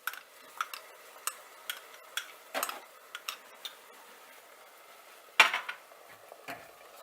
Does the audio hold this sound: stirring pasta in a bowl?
yes